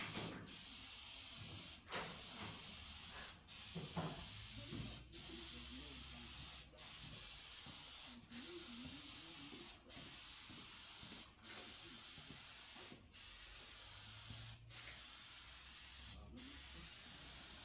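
Spray gun laying a coat of lace candy paint onto a small art piece in a shop, a steady continuous hiss broken by short regular pauses about every one to two seconds, with faint background sounds underneath.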